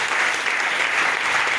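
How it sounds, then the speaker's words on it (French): Sustained applause from a church congregation acclaiming Jesus during a gathering, dense steady clapping that fills the whole moment at an even loudness. "Acclamez d'abord pour Jésus."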